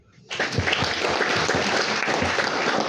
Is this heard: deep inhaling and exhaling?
no